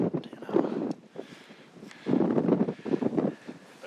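A strong 25-mile-an-hour crosswind buffets the microphone outdoors along a river on an Alaska brown bear hunt, producing loud, uneven low rumbling gusts that surge and fade.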